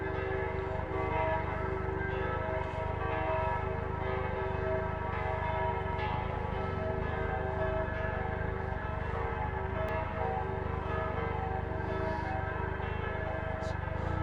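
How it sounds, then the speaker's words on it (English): Church bells ringing continuously, a full, layered peal with a sustained hum that fills the whole stretch at moderate distance. "The bells are going."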